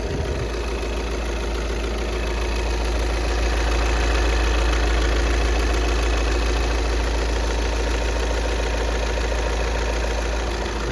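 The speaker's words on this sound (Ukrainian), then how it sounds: "мотор працює без зауважень. Зараз самі послухаєте, почуєте його роботу" 2013 VW Passat Alltrack B7 engine idling at a steady even rhythm, close and constant with a slight mechanical ticking, nobody talking.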